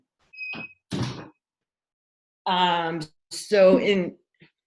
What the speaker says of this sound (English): Let me close my door real quick because I can hear the garbage man.